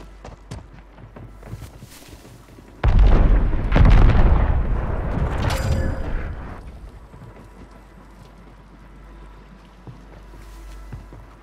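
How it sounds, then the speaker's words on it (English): Gunfire and explosions in Call of Duty erupt suddenly as a loud, dense blast that dies away over a few seconds, with faint scattered shots before and after. "it sound like somebody shooting from behind you"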